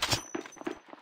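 Gunfire in the shooter game Apex Legends, a very short burst of a few quick shots with metallic ring, ending on a sharp new report.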